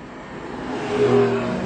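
A Porsche 911 Targa 4S engine revs up close and loud through its sports exhaust, the exhaust note rising and swelling briefly before settling back.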